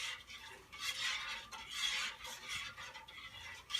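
Sugar being stirred into grenadine syrup, a spoon scraping and swishing around the pot in repeated soft strokes at close range, with no talking.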